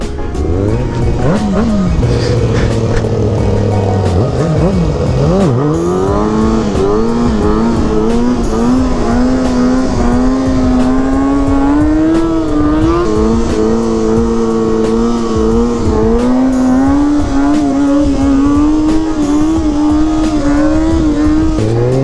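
A 2020 Kawasaki 636 sport motorcycle engine revving loudly and close, with sharp throttle blips early on, then sustained rising and falling revs holding a strong engine tone.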